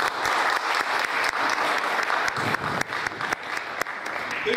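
An audience claps steadily in dense, sustained applause for several seconds, loud and close with no voices over it.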